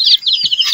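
Chickens and young chicks in a poultry brooder give off a quick burst of high, shrill cheeping and a soft low cluck, close by and brief, with no voices.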